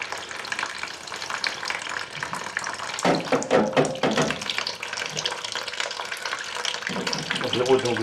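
Water runs and splashes from an Indesit washing machine being drained during a fault-code F05 repair, a steady gushing wash that surges louder partway through, close by, with brief voices.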